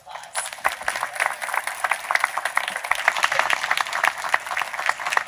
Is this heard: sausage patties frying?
no